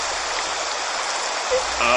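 Steady rain pours down near a river, a dense continuous hiss holding loud and even throughout with no pause.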